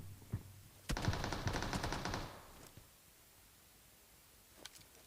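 A single close burst of automatic gunfire from PUBG Mobile, a rapid string of shots lasting about a second and a half, with isolated shots just before and after. No voices.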